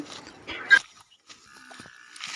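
A freshly calved water buffalo on a farm in Kobadiya village, Bhavnagar district, Gujarat, gives a few short moos and grunts with brief pauses between them.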